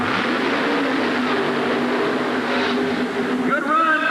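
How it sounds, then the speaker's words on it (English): Loud, continuous engine roar from a Chrysler wedge-engined monster truck making a competition run at a 1988 USHRA event in Pittsburgh, with steady droning harmonics and a rising tone near the end, heard under a commentator's voice. "A great run for the Chrysler wedge-powered machine."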